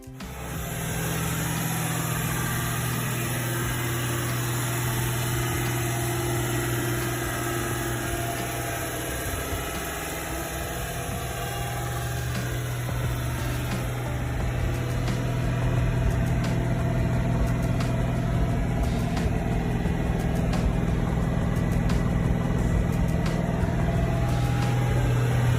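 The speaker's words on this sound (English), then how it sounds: "enjoy this short clip of the engine running." A 1955 Mercedes-Benz 300 SL Gullwing's straight-six engine idles steadily and close by, a constant low rumble with a faint mechanical whine, no voices.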